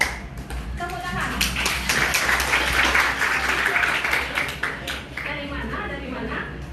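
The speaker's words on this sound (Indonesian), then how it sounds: "Tepuk tangan." Applause from a school audience at a creative-writing workshop at MAN 1 Padang Pariaman, a steady dense clapping that fills the whole stretch, with voices and scattered taps mixed in.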